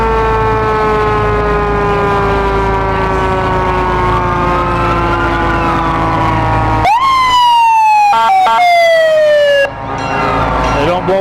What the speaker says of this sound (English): They don't blow the siren in their own parade, but they blow it here.